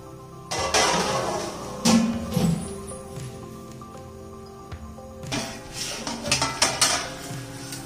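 A lid set down on a pot of peas cooking in masala, part of bulk cooking for an event: a few close metallic clanks and clatters with pauses between, fairly loud against a quiet kitchen.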